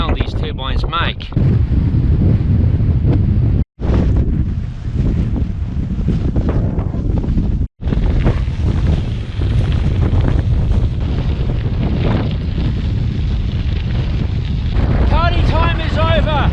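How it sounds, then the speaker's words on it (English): Strong headwind roars across the microphone while cycling west on gravel roads outside Dodge City, Kansas, near wind turbines: a loud, continuous buffeting rumble that drops out twice briefly. "Now I'm riding directly into a block headwind, heading west towards Dodge City."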